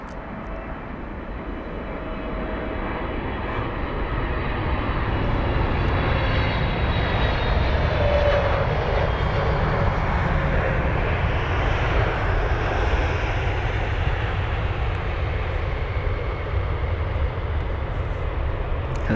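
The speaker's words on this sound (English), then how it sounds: "that's a 777 with a stunning touchdown" A ten-year-old British Airways Boeing 777-300ER touches down on runway 27 right at London Heathrow, its engine roar building to a loud, sustained broadband rush that holds steady for many seconds, heard from nearby.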